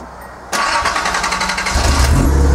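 A Datsun 280ZX engine fitted with MegaSquirt engine management cranks and fires up, settling into a loud, rough, steady idle close by.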